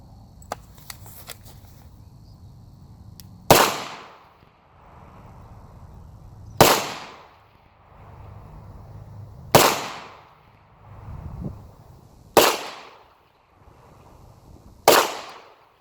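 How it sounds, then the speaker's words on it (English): Five loud, sharp shots from a Beretta 92FS 9mm pistol fired at about 25 yards, spaced roughly three seconds apart, each a sharp crack with a short decay, with quiet handling noise between them. "we'll shoot 5 rounds at about 25 yards here"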